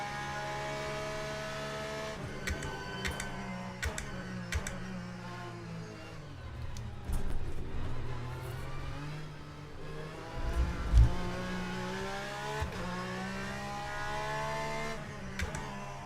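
A race car engine in the Le Mans Ultimate racing game revs and shifts through gears steadily, rising and falling in pitch with brief tire noise, heard up close and fairly quiet throughout.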